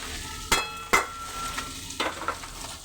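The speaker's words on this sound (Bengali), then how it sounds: "আমার আলুটা দিয়ে দিলাম" Potatoes drop into a hot pan already frying small mourala fish, producing a few sharp close clatters and bursts of sizzle over a continuous frying hiss.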